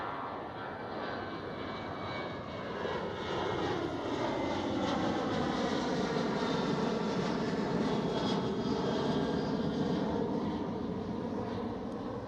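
A Ryanair Airbus jet at Amsterdam Schiphol roars steadily, loud and fairly close, its engine tone sweeping in pitch as the aircraft moves past the listener.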